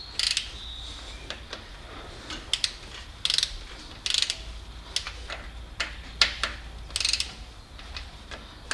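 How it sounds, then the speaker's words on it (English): A torque wrench ratchets while tightening a timing chain tensioner: close, crisp clicking in short bursts about once a second, with quiet gaps between and no talking. "Now I will start carefully using the torque wrench."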